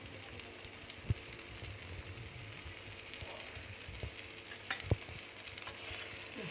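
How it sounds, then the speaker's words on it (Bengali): Taro pieces with salt and turmeric fry lightly in a pan, a quiet low sizzle with a few sharp clicks and scrapes of stirring. "হালকা করে ভেজে নেবো।"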